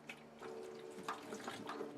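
Liquid poured from a measuring cup into a utility sink, a soft trickle and splash with scattered drips, faint and close, no talking.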